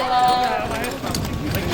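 Ponies pull a carriage at a brisk pace in a horse-driving marathon, their rhythmic hoof clip-clops heard under continuous talking from a narrator.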